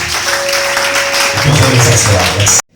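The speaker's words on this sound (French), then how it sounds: "Est-ce qu'on peut acclamer pour Jésus?" Church congregation applauding for Jesus, a dense, steady wash of clapping from many hands that fills the room, with voices mixed in, before it stops abruptly.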